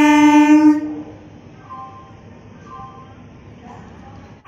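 A train at a railway station junction sounds a loud, sustained horn blast, then low rumbling rolling noise continues with fainter whistle tones.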